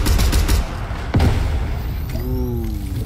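A mythic assault rifle in Fortnite fires a quick burst of close, loud shots, then a sharp single crack follows, with rising mechanical whines trailing into the background.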